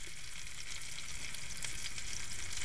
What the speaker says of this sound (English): so there's some onion caramelizing